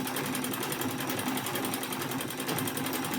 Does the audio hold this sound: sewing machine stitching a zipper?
yes